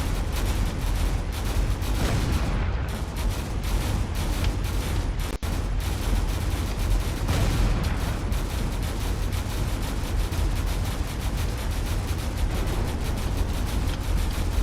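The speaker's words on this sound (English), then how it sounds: "Cannons on this corvette are definitely trying to do their best here." Corvette cannons firing in a space battle game, a continuous loud barrage of rapid thuds and booms blurring into dense rumbling noise throughout.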